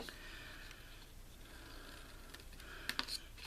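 Paper tabs being cut with small angled snips for a decorative tissue box, a steady close scraping texture with a few sharp clicks near the end, no talking.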